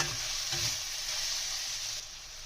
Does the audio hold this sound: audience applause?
no